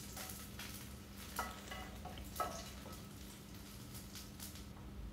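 Garlic and chili frying in sesame oil in a pan, a quiet steady sizzle with a few soft clinks of stirring.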